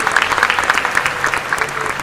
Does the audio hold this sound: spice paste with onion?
no